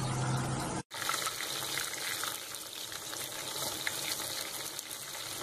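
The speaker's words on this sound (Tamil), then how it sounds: "ஒரு சைடு கொஞ்சம் ஃப்ரை ஆனதும் திருப்பி போட்டுக்கலாம்" Fish coated in ragi flour fries in hot oil with a dense, steady sizzle and crackle, close and continuous, after a momentary cut near the start; no voices.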